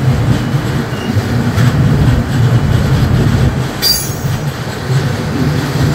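The 15777 Tourist Express rolls into Alipurduar Junction, a steady loud rumble of wheels on rails with a brief high squeal near the end, with no voices over it.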